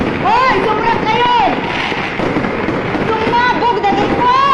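Firecrackers pop and crackle in a chaotic cluster during a fire at a fireworks seller's shop, with shouting and panicked voices over the constant loud bursts throughout.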